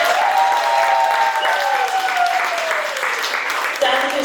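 Audience applause at a live cooking event, a broad wash of clapping hands that holds steady under prominent talking voices and dips slightly near the end.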